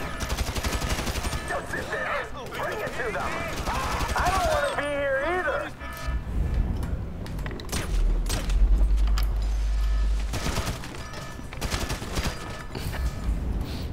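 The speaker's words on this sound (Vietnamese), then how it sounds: "Thôi, dùng súng thôi." Gunfire during a street robbery heist in GTA V, with sharp repeated shots in uneven bursts, loud and close, mixed with game music and effects while someone talks over it.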